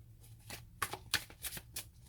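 Large oracle card deck being shuffled in two halves, giving a run of crisp riffling bursts and soft slaps, close and fairly quiet with no talking.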